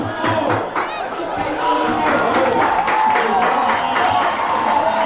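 A crowd in the stands at a college football game, West Hills vs Chabot in the second half, murmurs and claps in a busy, swelling roar, with a commentator talking over it.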